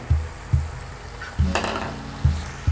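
Drumstick leaves being stirred into a pot of water for coconut milk soup, with heavy rhythmic thuds of a spoon against the vessel about every second and a brief splashy swirl in the middle, close and fairly loud.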